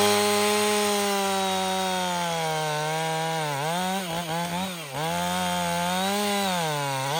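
A chainsaw at full revs bores into a log and then cuts upward through it from below. The engine drones loud and close, dipping and straining as the bar binds, then recovers to a steady whine. No one speaks.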